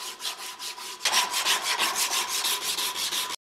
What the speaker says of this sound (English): The final sanding is done with a strip of sandpaper.